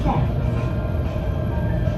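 Steady, loud low rumble and rolling noise inside a moving, nearly empty passenger train in Malaysia, continuous and even throughout.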